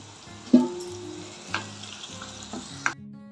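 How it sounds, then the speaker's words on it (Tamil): Vegetables sautéing with turmeric and chilli powder in a pan for rava kichadi, a steady close sizzle broken by a few sharp spoon scrapes and clinks against the metal, with no talking. "இதிலே வதக்கிடுவோம்"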